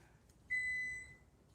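A single steady electronic buzzer beep sounds from a kitchen where peppers are being sliced and preserved, clear and moderately loud for about three-quarters of a second, then fading, with nobody talking.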